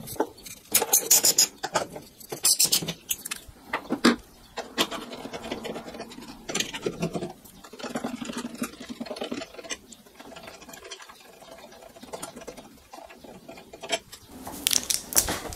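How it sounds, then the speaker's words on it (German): Close, intermittent ratcheting clicks and scraping come from a tool loosening the last screws of a BMW M2 Competition strut brace in the engine bay, in irregular bursts with short pauses. "So, jetzt die beiden letzten Schrauben noch lösen."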